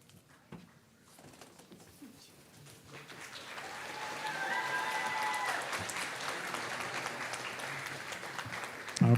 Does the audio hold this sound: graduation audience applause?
yes